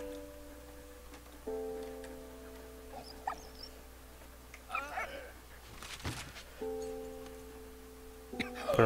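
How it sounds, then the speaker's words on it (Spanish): A dog in the World War I video game Valiant Hearts: The Great War gives short, soft barks and yips over steady game music, while someone talks now and then. "El perrito me encontró."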